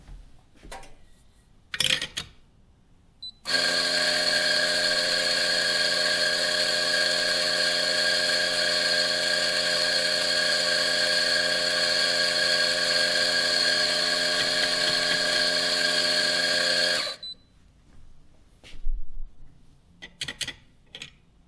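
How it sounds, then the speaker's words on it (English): A coffee grinder runs steadily on freshly roasted beans from a Kaldi Fortis home roaster, a loud, even motor whir with a grinding buzz lasting about fourteen seconds, preceded and followed by small handling clicks and taps. "And we're about to grind the beans."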